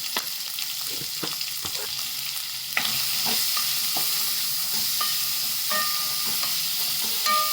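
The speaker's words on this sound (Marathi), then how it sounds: "कांदा गुलाबी कलरवर भाजून घेते" Sliced large onions fry in a little oil with salt, a steady hiss of sizzling punctuated by scattered clinks and scrapes of stirring that grow a little louder partway through.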